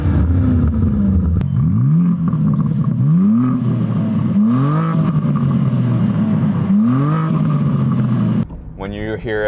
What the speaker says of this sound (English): When you hear an M5 drive away and that V8 exhaust